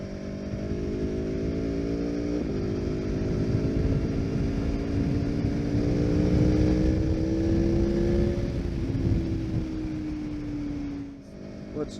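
Naked sport motorcycle, an Aprilia Tuono V4 or KTM 1290 Super Duke, accelerating hard through the gears with the front wheel lifting, a loud close engine note climbing in pitch and stepping down at each quick upshift before easing off.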